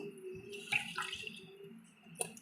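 Prawns washed by hand in water in a kitchen, with soft continuous sloshing and splashing, a couple of brief louder splashes, and no speech.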